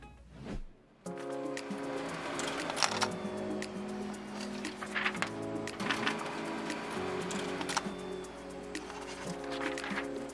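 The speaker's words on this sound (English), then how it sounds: "Now that my designs have been printed" A home printer printing heat transfer designs for family vacation tees, with a steady mechanical whir and repeated clicking and shuttling of the print head, running continuously at close range after a short quiet start.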